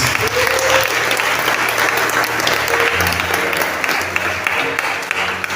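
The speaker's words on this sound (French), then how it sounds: "Donne des acclamations au Saint-Esprit." A church congregation breaks into sustained applause and cheering, a loud wash of clapping with scattered shouts and a few voices rising above the crowd.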